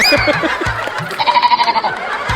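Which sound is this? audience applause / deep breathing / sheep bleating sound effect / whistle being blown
sheep bleating sound effect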